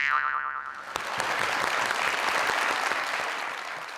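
Audience applause in a hall, bursting in suddenly after a brief tonal sound and continuing as steady, dense clapping that swells and holds for several seconds.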